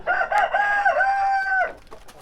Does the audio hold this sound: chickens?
yes